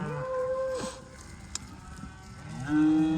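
Angus cattle mooing, a long low moo at the start and another rising moo near the end, fairly close with quiet farm background between calls.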